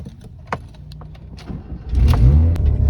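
A car engine revs to high RPM, swelling into a loud rising roar in the last second after quieter clicks and knocks around the vehicle.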